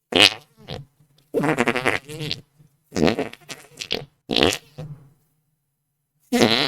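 Mouth-made fart sound effects, a voice imitating flatulence in a string of wet, buzzing bursts of varying length with short pauses between them, loud and close.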